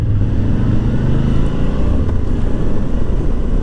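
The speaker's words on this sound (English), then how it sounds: "She's riding a BMW GS 750" A lowered BMW GS 750 motorcycle ridden ahead on an adventure ride in Slovenia, heard from another bike as a loud, continuous engine rumble mixed with heavy wind noise.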